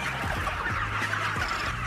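Many hungry chickens on a large poultry farm cluck together at close range, overlapping short rhythmic calls over a busy flock murmur.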